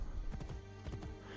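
Horse hooves clip-clopping in the video game Assassin's Creed Brotherhood, a few quick quiet hoof beats in two short bursts, fairly faint.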